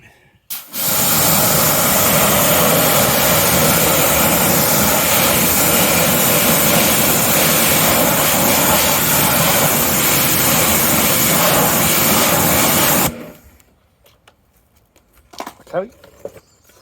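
Water sprays steadily and loudly onto an alloy wheel barrel, rinsing off fallout remover chemical, as a continuous hiss that stops abruptly near the end, followed by faint handling noises.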